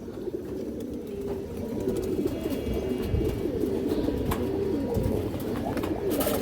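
Many fancy pigeons coo in a steady, overlapping chorus, a dense low throaty murmur that continues throughout.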